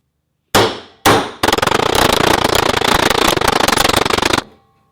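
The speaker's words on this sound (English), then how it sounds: "I'm going to put the knife here and use my hammer." A hammer drives a Cold Steel Bushman knife into wood: two sharp, ringing metallic strikes spaced apart, then a fast, steady run of loud blows that stops abruptly, all very close.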